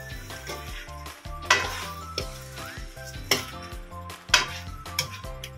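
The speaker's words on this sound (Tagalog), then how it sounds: "Haluin natin muna." Chicken afritada in tomato sauce being stirred in a pan, with a spoon scraping and clinking against the metal in a few sharp strokes over a soft simmer, and background music playing underneath.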